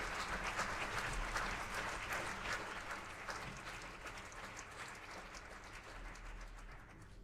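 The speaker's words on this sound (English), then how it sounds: "So please give her a big round of applause" Audience applause at a symposium, steady and dense from a roomful of people, fairly distant and soft, gradually tapering off over several seconds.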